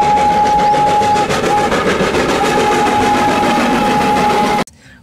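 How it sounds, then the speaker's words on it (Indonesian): A battery-powered Thomas toy train runs with a steady motorized whir and rattling clicks, loud and close, with a faint tonal whine, before stopping abruptly near the end. "Wow, kereta api Thomas."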